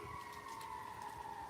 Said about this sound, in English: We got sirens blaring in triumph as Indiana has won